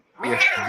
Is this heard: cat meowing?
yes